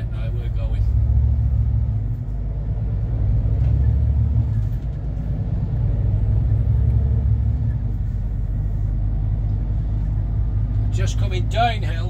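A Scania R450 truck pulls away from traffic lights on a road in Ruthin, North Wales. Its deep, steady engine rumble runs throughout and stays loud and continuous, with brief higher sounds near the end.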